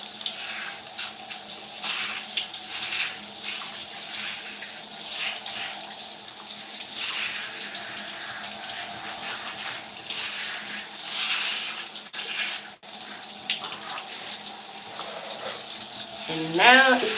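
Shower water runs steadily while rinsing out hair, a continuous close hiss and splatter with shifting spray that lasts throughout and ends with a brief voice at the close.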